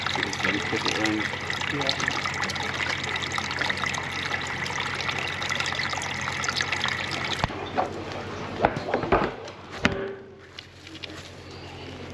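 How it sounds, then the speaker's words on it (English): Water from a jet hose flows through a blocked drain between manholes, a steady rushing trickle that runs continuously, briefly dipping and sputtering near the end, with a voice talking over part of it. "You can see the water coming down from my jet and hose and the other manhole"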